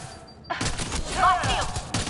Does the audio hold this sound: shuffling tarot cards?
no